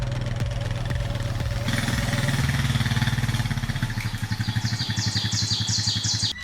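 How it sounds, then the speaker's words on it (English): An ATV engine runs steadily while towing a log arch that lifts one end of a log off the ground in small-scale forestry work, with a mid-pitched idle that firms up into a pulsing, working drone. "This log arch is pulled by an ATV in front, helping lift one end of the log off the ground."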